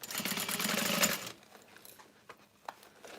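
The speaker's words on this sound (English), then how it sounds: "Make sure I end it with a back stitch" Sewing machine stitching the end of a seam on a vanity bag, a short burst of rapid needle chatter that stops abruptly, followed by near quiet with a few faint clicks and taps.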